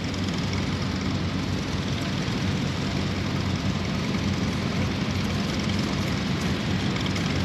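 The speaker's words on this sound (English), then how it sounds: "This tractor is being driven this morning by Jim Forrest." A 1942 antique tractor engine runs steadily at a tractor show in Larned, Kansas, a loud, continuous broadband rumble close by with no pause.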